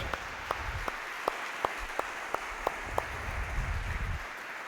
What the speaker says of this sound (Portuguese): eu quero dar um aplauso bem forte a Jesus